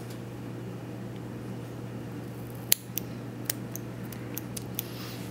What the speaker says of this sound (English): with my scissors through that sclera there.